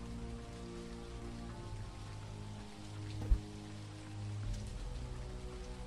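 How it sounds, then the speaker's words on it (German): Steady rain patters against a window in the ghost-hunting game Phasmophobia, a constant wash of drops with a low ambient hum beneath and one brief sharp knock partway through. "Gerade sehen wir nur ziemlich viel Regen draußen am Fenster."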